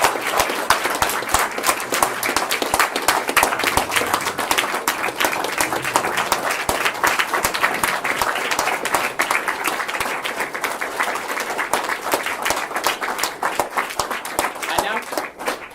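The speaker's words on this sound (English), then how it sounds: "Let's give our new Eagle Scout one more round of applause." Audience at an Eagle Scout ceremony applauds the new Eagle Scout, a loud, close, dense stretch of clapping holding steady for about fifteen seconds with faint voices beneath.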